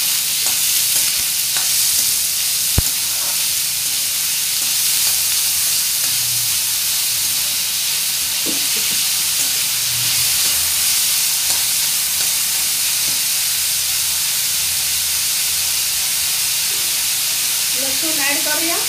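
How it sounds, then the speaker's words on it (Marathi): Chopped onion fries in a pan for a homemade Indian drumstick-vegetable dish, giving a constant loud sizzle with occasional scraping stirs and a faint voice in the background. "आता आपण यात चिरलेला कांदा घालूया। कांदा व्यवस्थित परतून घेऊया।"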